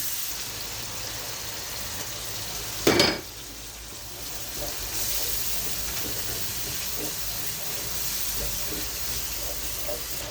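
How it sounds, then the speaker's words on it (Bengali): Beef with chopped onion, chili, turmeric and salt cooking in a pan, giving a steady close frying sizzle with stirring and a brief louder clatter near the start, no talking. "তো এটা গরু মাংস রান্না করব আমি এখানে পেঁয়াজ কুচি এখানে মরিচের পাই হলুদের পাখি আর লবণ কাঁচামরি দিয়ে দিলাম"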